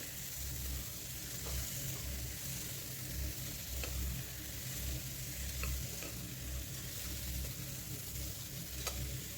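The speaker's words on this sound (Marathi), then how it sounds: "यामध्ये आता चिरून घेतलेल्या भाज्या टाकणार आहोत एकदा सर्व काही चांगल्या पद्धतीने हलवून घेणार आहोत" Chopped vegetables fry in oil for a homemade veg biryani pulav, a soft continuous sizzle with scraping stirring sounds, quiet and steady throughout without speech.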